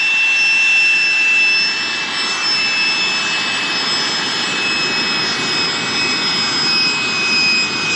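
A Giga Pump portable electric air pump inflates an air mattress on a motorcycle camping trip, a loud, close, steady whooshing roar with a faint high whine that holds unbroken from start to finish.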